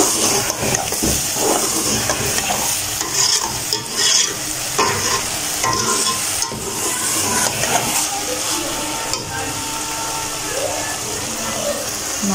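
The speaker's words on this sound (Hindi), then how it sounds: "1 से 2 मिनट तक तेज़ आंच पर फ्राई करेंगे।" Okra in achari masala fries in separating oil over high heat, a steady loud sizzle punctuated by repeated scraping stirs of the spoon in the pan, with no talking.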